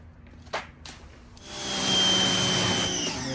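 A Westinghouse pressure washer starts up and runs with a steady, loud motor and spray hiss while washing dirt off a Yamaha YZ250X two-stroke dirt bike, after a few clicks and handling noises.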